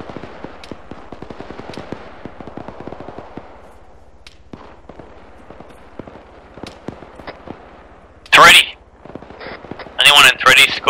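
Rapid bursts of automatic gunfire from an ARMA 3 firefight, a dense rattle of shots through most of the stretch with louder close bursts near the end, while players talk over radio.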